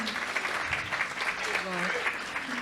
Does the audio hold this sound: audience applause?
yes